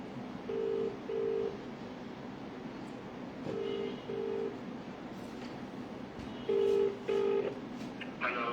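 A phone call rings out through the earpiece as repeated paired ringback tones, three double rings spaced a few seconds apart over a faint background hiss.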